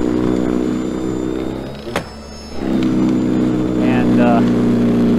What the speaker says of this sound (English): this is my normal route of snow blowing